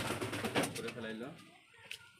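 A pigeon coos briefly in a loft, its low warbling call blending with a nearby voice in a short, faint moment.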